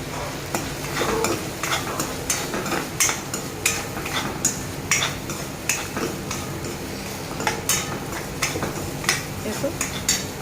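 A spoon scrapes and clinks around a pan of moth bean lentil curry in a steady rhythm, with a faint sizzle underneath throughout.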